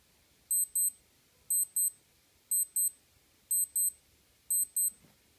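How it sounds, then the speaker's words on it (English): Alarm of a Casio G-Shock GWB-5600 digital watch: a loud, high-pitched electronic beeping in five evenly spaced pairs of short double beeps, clear against a quiet background and stopping near the end. "So that's what the alarm sounds like on this watch"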